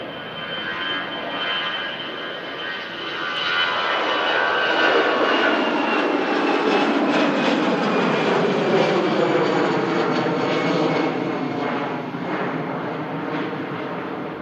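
An Iberia Express airliner climbs out after takeoff at Manchester Airport, its jet engine roar swelling into a loud, broad rush that holds steady and then begins to ease as it moves away.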